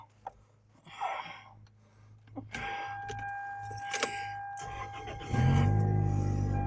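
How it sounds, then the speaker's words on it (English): A Ford Mustang hot rod's engine cranks and catches, rising into a loud, steady idle close by after a few clicks and knocks. "You start the car up."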